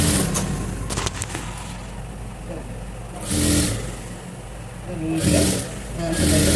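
A sewing machine stitches fabric piping in two close bursts of whirring motor noise, each lasting about a second, between stretches of quieter handling sounds.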